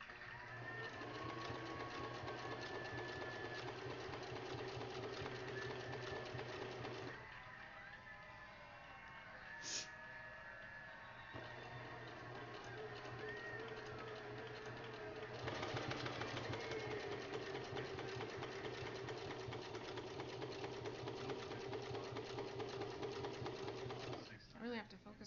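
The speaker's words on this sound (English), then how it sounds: "I'll probably just be sewing" Sewing machine stitching in steady bursts, a rapid mechanical whirring hum that stops briefly and resumes, close and fairly loud, with a low motor drone underneath.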